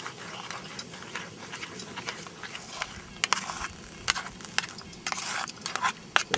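Quiet, steady stirring of beef ranch omelet mix in a pan over a backcountry camping stove: soft scraping and light clicks of a utensil with a gentle sizzle, fairly faint and without talk.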